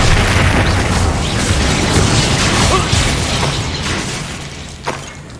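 A spell explosion from the Expulso curse in the game Hogwarts Legacy: a loud, dense, continuous rumbling blast that stays full for several seconds, ending with a brief sharp pop before it fades.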